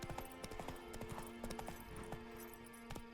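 Hooves of the horse Roach clip-clop at a steady gallop in The Witcher 3, played on PS5, rhythmic and close, with a faint low game ambience beneath and no talking.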